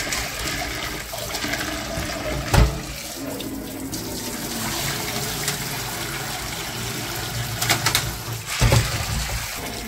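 Tap water runs steadily into a sink while red peas are washed, with a couple of brief clunks and splashes standing out over the continuous flow.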